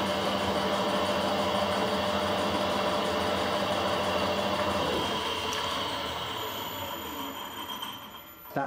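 A Harrison HS68 metal lathe runs in its low speed range, near 120 RPM, giving a steady, loud mechanical drone and whir that eases off slightly near the end.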